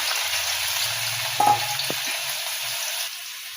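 Paneer frying in hot peanut oil, a steady broadband sizzle running throughout with a couple of brief clanks of a utensil near the middle, no voices.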